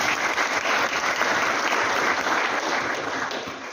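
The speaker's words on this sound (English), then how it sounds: "Maybe we should clap for African leaders." An audience at a morning gathering on African leaders and a continental agreement claps steadily, a dense, even wash of applause that holds strong throughout and eases slightly toward the end.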